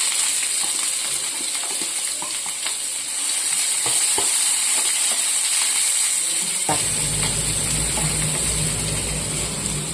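Onion slices and small coconut pieces frying in oil in a pan after mustard seeds, a steady loud sizzle with occasional stirring clinks, growing denser partway through.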